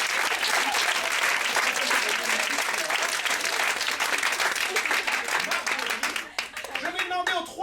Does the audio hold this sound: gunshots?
no